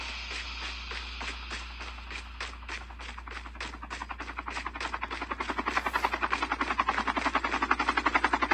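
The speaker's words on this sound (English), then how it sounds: "I didn't want that chopper anyway." Helicopter in the Call of Duty Mobile video game, a rapid rotor chop that starts moderate and grows louder and denser toward the end as if drawing closer, with no talk over it.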